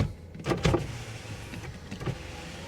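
The power window of a 1973 Ford Mustang Mach 1 runs, with a close motor whir and a thump and rattle of glass in the door, then a quieter hum.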